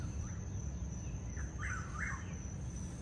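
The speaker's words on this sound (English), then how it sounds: "What, a whippoorwill?" A whippoorwill calls from a tree beside a campsite at night, its short repeated whistled phrases fairly faint over a steady drone of insects, with no talking.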